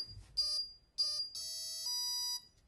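A Turnigy servo tester's knob is turned to zero and the ESC answers with a series of clear, high electronic arming beeps: two short tones, then two longer sustained ones, all close and alone.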